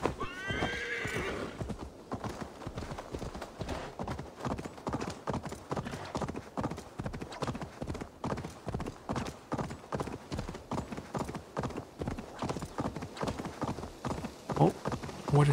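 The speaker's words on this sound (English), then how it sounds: "We might as well go on the road with our horse." Steady hoofbeats of a horse galloping along a road in Assassin's Creed Valhalla, a continuous rapid clip-clop rhythm throughout, with a brief whinny near the start.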